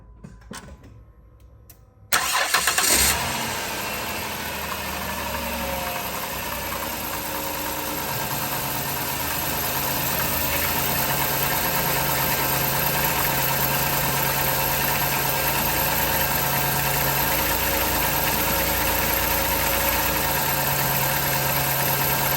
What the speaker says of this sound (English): now I'm gonna start the car and we'll see if it leaks